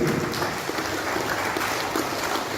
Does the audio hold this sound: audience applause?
yes